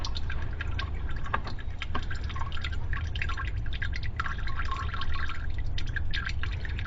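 Shell Rotella motor oil drips from the drain of a gas truck during an oil change. A faint, steady trickle with scattered small drips runs throughout under a low background hum.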